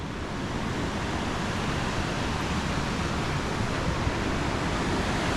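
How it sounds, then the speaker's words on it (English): Paine Falls in Painesville, Ohio roars in spring as a dense, steady rush of falling water, close and loud, filling the whole stretch with no voices over it. "And here's the beautiful waterfall."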